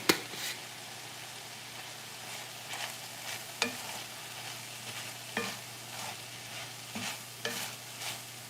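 Vegetables, including home-dried garden produce, fry in a pan as a quiet constant sizzle. Occasional spoon or spatula knocks and scrapes against the pan break in at irregular intervals, with no talking.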